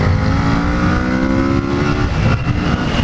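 Kawasaki Z650 motorcycle at full throttle, a loud continuous engine roar with strong intake growl from the air box, steady and close for the whole stretch.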